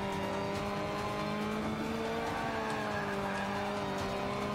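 Tires squeal steadily through a drift in Forza Motorsport 5, a modern sport compact car's engine droning loud and close under the continuous screech, no voices.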